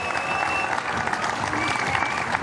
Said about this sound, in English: in second place, an even bigger round of applause, please, for Jodie Butel